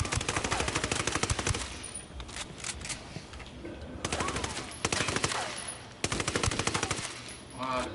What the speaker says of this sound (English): I call the rebels for some direct fire.